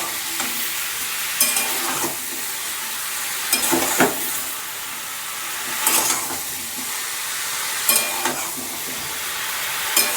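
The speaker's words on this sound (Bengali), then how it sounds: "ভালো করে নাড়িয়ে নিচ্ছি।" Mushrooms sizzling in a hot pan, with a steady frying hiss broken by a handful of sharp, evenly spaced stirring scrapes at close range.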